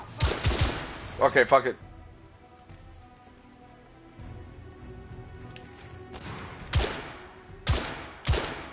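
Blind-fire gunshots in the video game The Order: 1886, with loud bursts at the start and several more sharp shots near the end, and someone talking briefly early on.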